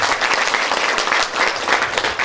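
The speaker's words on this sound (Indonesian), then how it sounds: "Tepuk tangan buat kita semua." Audience applause at a swearing-in ceremony, a dense close burst of many hands clapping that swells and dips across a couple of seconds.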